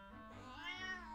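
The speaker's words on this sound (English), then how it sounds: "There's a kitty." A cat meows in the Zelda: Echoes of Wisdom video game, one drawn-out rising and falling mew that plays clearly over faint background game music.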